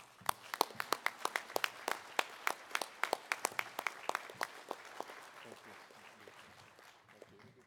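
Audience at an awards gala clapping for a recipient: crisp, sharp individual claps near the start that build into fuller applause, then thin out and fade toward the end.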